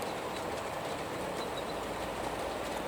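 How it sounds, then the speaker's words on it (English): Model railway trains running on an indoor layout give a steady, continuous rolling hiss with faint light clicking, moderately quiet and unbroken, with no engine sounds and no talking. "there are trains running."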